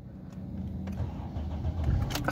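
A Honda car engine cranks and starts, a short mid-pitched whirr that catches and settles toward idle, heard close and fairly quiet with a faint click near the end.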